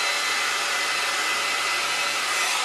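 A hair dryer blow-dries natural hair using the tension method, a loud steady close-up whoosh of airflow and motor hum that stays constant with no talk over it.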